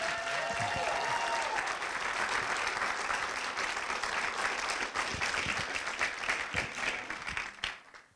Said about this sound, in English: One more round of applause for Nathaniel Stern.